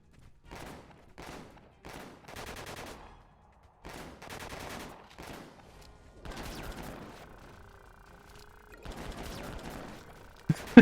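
Gunfire in the video game Disaster: Day of Crisis, a series of short, separate shot bursts with brief gaps, fairly quiet and alone, followed by longer sustained bursts toward the end.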